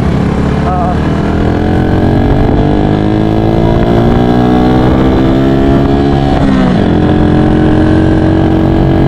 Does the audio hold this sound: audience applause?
no